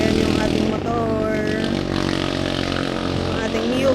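A Yamaha Mio 125S scooter-style motorcycle runs on a solo ride along a mountain road, its engine giving a steady droning hum with faint pitch shifts, heard close and continuous without speech.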